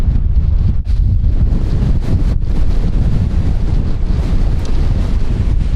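Strong wind roars steadily across a beach jetty, buffeting the microphone in a loud, continuous low rumble with brief dips, and no voices.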